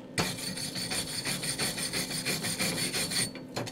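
Slag is chipped off a self-shielded flux-cored weld in a rapid run of scraping, rasping strokes, close and fairly quiet, with a brief pause near the end.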